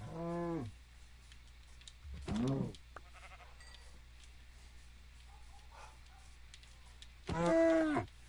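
Minecraft cows give three separate bursts of lowing moos, each under a second long, with quiet game background between them and no talk.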